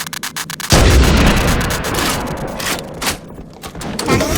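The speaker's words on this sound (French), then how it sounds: "Vous entendrez ce petit bruit là de bug? C'est les armes qui bug." Weapons glitching in the Halo CE Anniversary video game produce a loud, continuous barrage of booming gunfire and bursts that cuts in abruptly after a short quieter stretch of rapid ticking.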